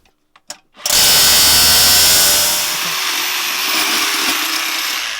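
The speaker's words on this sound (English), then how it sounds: "Drill out both holes in the back of the box." A power drill bores holes into the back of a 9A security lid box, starting after a few brief clicks and then running as one loud, steady whine for several seconds, easing slightly as the bit goes through.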